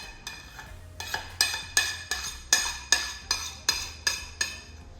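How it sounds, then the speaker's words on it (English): A utensil repeatedly taps and clinks against a pie dish while custard goes into a banana chiffon pie, about a dozen sharp, evenly spaced metallic knocks heard close and clear. "And then I'm going to put in our custard."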